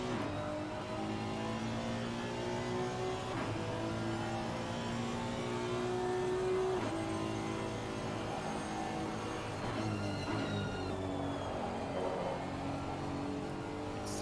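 Race cars lapping Donington in a rainy sim racing game, engines droning steadily at a loud, close level with shifting pitch as cars accelerate and change gear, no voices.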